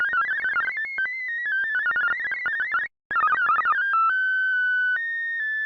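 A thin, steady high-pitched tinnitus-like ringing tone recreated in Ableton Live, synthetic and continuous, with a brief gap partway through before settling into sustained held pitches.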